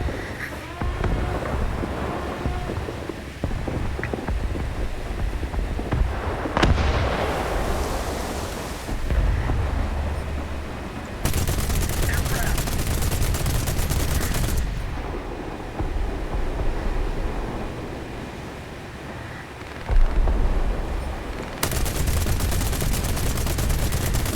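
Gunfire and explosions in the War Thunder video game sound as a continuous, dense roar with heavy booms and bursts. The sound breaks off abruptly and restarts twice.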